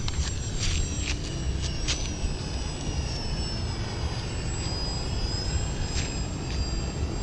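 A small RC trainer airplane's engine whines steadily on a landing pass, a loud continuous buzzing drone with a high tonal pitch that shifts slightly as the model passes, with no other sounds over it.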